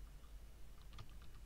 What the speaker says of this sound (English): So we'll type that into the Google Chrome extension that we're using